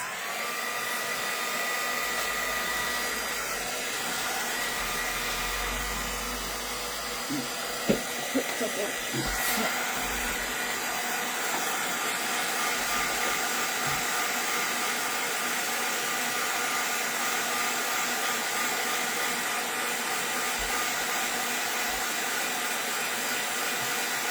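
A hair dryer blows continuously at close range to dry watercolor paint, a steady airy roar that holds for the whole stretch, with a few faint clicks partway through.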